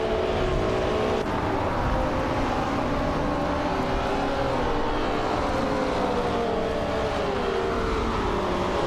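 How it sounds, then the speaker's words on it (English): A 1971 Lotus Elan Sprint race car in a racing video game drones steadily at a constant engine pitch with a slight gear shift early on, a continuous mid-level engine tone without talk. "Benanahosh is racing a 1971 Lotus Elon Sprint in Group 2."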